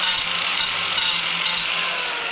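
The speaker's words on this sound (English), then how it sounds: "And then quickly just clean it up with the grinder." An angle grinder cleans up a steel skate rail with a steady, bright abrasive whine. The grind pulses in short bursts as the disc is pressed against the metal and eased off, close up and loud.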